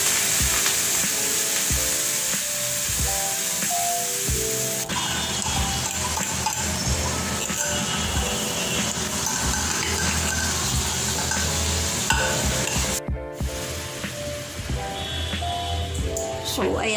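Corned beef frying and being stirred in a pan, a dense, continuous sizzle with scraping and clinking from the stirring. A person talks over it throughout.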